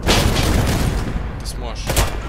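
Gunfire in the video game Warface during a team mission on the Volcano map, a dense, continuous clatter of shots and booms that stays loud throughout, with voices speaking over the shooting.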